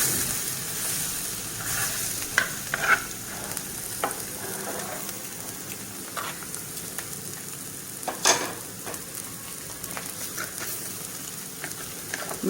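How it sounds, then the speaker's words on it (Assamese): Fish pieces frying in hot oil in a pan for a fish masala gravy: a steady close sizzle runs throughout, broken by occasional sharp scrapes and clinks of stirring, with no talking. "এতিয়া মাছটো মই লুটিয়াই দিম"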